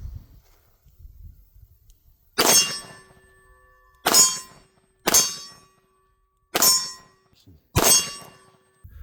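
Five single-action revolver shots ring off a steel target at the range, each a sharp metallic clang with a short ringing decay, spaced about a second or more apart against near silence.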